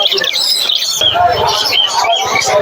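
Many caged birds chirp and twitter in a dense, steady chatter at a busy bird market in Mirpur-1, Dhaka, with faint voices mixed into the crowd noise.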